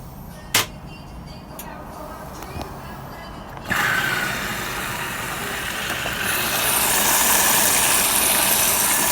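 A Splendide WD2100XC washing machine starting a wash cycle, running on battery power: a click, then a steady motor hum and water rush that swells louder after a few seconds and holds.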